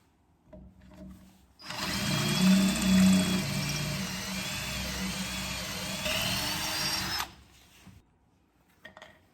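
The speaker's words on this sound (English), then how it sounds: "So we're gonna drill this out because we need to get access down here" A drill bores out a damaged wheel lock on a Porsche 914 with a steady, loud, high whine lasting several seconds, close, with faint clanks before and after.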